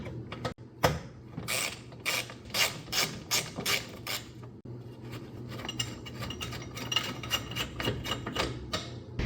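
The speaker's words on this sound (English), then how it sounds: "you can remove this single 8mm bolt on the driver's side and passenger side front" Ratchet working an 8mm mud flap bolt on the front of a 2019-2023 Ford Ranger, a run of rapid clicking bursts in quick succession, close and fairly loud, with brief pauses between strokes.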